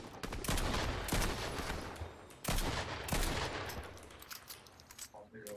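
Rapid bursts of Fortnite gunfire crack through a competitive match in loud, dense volleys with brief pauses between strings of shots, while players talk over the shooting.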